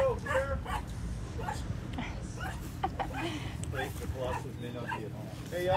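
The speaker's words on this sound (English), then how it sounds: "Here's another little puppy." A small lost puppy yips and whimpers in short, soft bursts during a neighborhood relief visit in San Antonio, mostly under people talking nearby.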